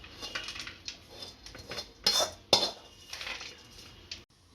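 Date mixture for khajoor ladoo scraped and transferred from a pan into a dish with metal utensils, giving a run of close scraping clinks and clatters with a few sharper louder knocks, no voices.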